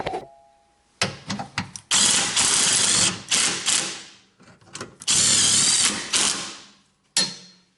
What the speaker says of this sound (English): gotta get this driver's side tightened up